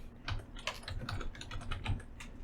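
Typing on a computer keyboard in a quiet room gives a close, steady run of soft key clicks.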